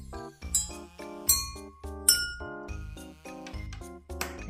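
A partly filled drinking glass is tapped repeatedly, giving bright ringing clinks about every three quarters of a second that sustain briefly, close and clear with no talking.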